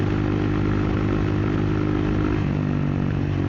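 Triumph Speed 400 motorcycle fitted with a Zard aftermarket exhaust and its stock catalytic converter still in place, running with a steady, fairly loud low engine drone throughout, without talk.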